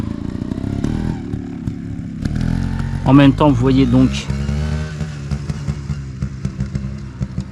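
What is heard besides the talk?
motorcycle engine passing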